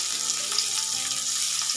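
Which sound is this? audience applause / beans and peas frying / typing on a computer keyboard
beans and peas frying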